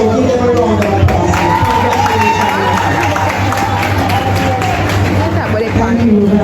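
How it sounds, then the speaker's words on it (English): A large crowd at a Portmore Community College graduation ceremony applauds and cheers loudly and continuously, with whoops and crowd babble mixed into the dense clapping. "So give them a round of applause."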